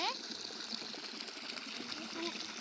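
A small dam lets out a thin flow of water, heard as a steady, soft rushing hiss that carries on evenly at a moderate distance.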